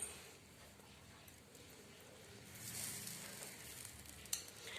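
Barbecue chicken being brushed lightly with oil gives off a soft, uneven sizzle that swells midway, with a brief tap near the end and no speech.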